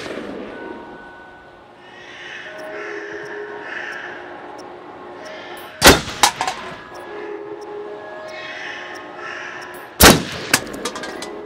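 Two sharp, loud gunshots in the video game Until Dawn, each ringing out with a brief echo several seconds apart over a quiet ambient game soundscape, with faint background tones between them.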